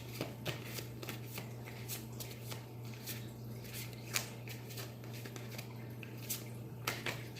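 A deck of angel tarot cards handled and divided close up, with quiet, repeated flicks, slides and soft riffling snaps of the cards over a faint steady hum.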